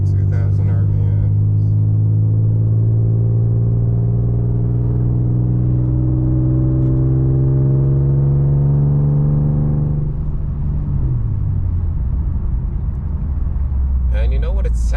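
An Infiniti Q50S exhaust fitted with a Vibrant Super Quiet resonator drones steadily at 2000 RPM from inside the cabin, a deep even hum that drops lower near the end, with voices talking over it.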